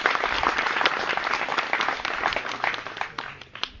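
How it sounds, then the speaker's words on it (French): An audience at a rural agricultural training centre's open day in Mlomp Kassa applauding a man, dense steady clapping from many hands throughout, close and loud. "Et je vous demande de l'applaudir"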